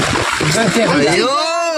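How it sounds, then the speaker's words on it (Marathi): Rainwater spatters and splashes onto people outdoors in the rain, a close, steady wet spray running through the whole moment while voices shout and laugh over it. "अरे ते पाणी तोंड पडतंय आणि वर अंगावर पडतंय."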